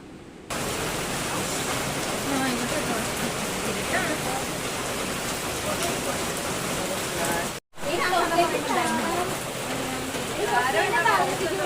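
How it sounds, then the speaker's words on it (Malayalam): Heavy rain falling at night in Alappuzha, a dense, loud, steady wash of noise with a brief dropout partway through and people talking over it. "ഒടുക്കത്തെ മഴയും."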